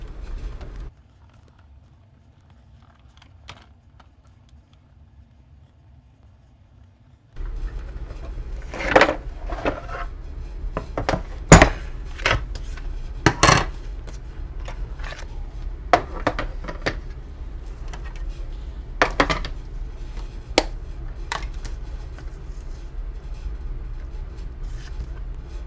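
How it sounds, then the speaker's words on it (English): Paper in an embossing folder is fed through an embossing machine. After several near-silent seconds, a low mechanical rumble starts, broken by scattered sharp clicks and cracks at close range. "we're going to run that through our embossing machine."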